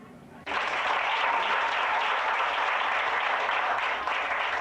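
Applause breaks out suddenly after a brief quiet moment and holds as a dense, steady wash of clapping from a large crowd until the end, loud and close.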